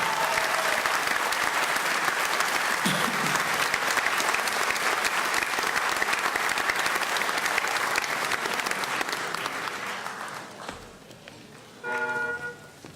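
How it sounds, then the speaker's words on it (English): A crowd applauds graduates at a college diploma and awards ceremony, with sustained, loud clapping for about ten seconds that then fades away, followed by a brief spoken voice near the end. "let's show how proud we are of all our graduates with a final round of applause"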